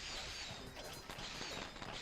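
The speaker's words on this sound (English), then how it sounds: "Fireworks!" Fireworks going off in the Sly Cooper and the Thievius Raccoonus video game, a faint, dense stretch of crackling bursts and pops that runs without a break.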